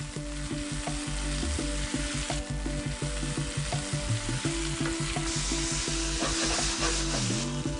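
Chopped tomatoes fry in a pan with a steady sizzle, punctuated by repeated utensil clicks and scraping as they are stirred, close and uninterrupted by speech.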